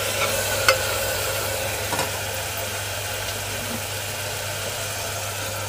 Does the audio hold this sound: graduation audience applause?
no